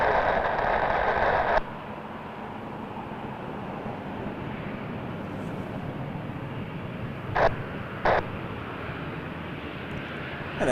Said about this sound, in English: that was an Embraer 175, Jazz 882 to Newark